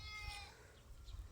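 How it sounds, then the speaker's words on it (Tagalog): A goat bleats faintly in the distance, a short wavering cry over quiet outdoor background noise. "Kambing."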